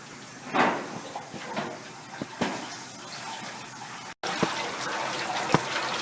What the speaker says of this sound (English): That little inlet is the soap coming in as the container or bin is filled up.